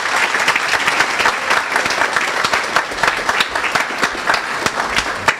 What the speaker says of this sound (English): let's give the team from the U.S. Embassy a round of applause, please